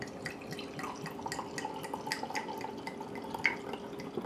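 Chardonnay wine is poured into a glass at a dinner table, a faint trickling liquid with small drips and a light glassy clink, close and quiet.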